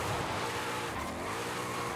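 Forza Horizon 5 video game: a car drifting in second gear with a manual gearbox, dense engine roar and a steady hiss of tire squeal, loud and continuous with no speech.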